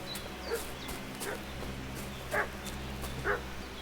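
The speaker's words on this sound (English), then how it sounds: "What's that dog making such a fuss about?" Dog barking and whimpering in the video game Kingdom Come Deliverance 2: a few short yips and whines spaced apart, fairly faint over a steady low ambient hum.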